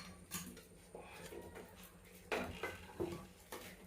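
Pasta being scooped out of a pan of oil with a utensil, leaving the oil behind, giving light metallic scrapes and clinks against the pan, a few sharper taps near the end over a quiet kitchen background.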